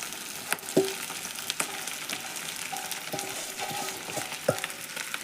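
Potato and sabudana mix frying in hot oil for a Mahashivratri fasting khichdi, giving a steady soft sizzle with a few sharp clicks and scrapes of a stirring spoon against the pan.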